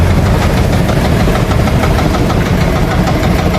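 A loud, close small fishing boat engine chugs steadily with a rough, knocking rumble, running at a constant pace.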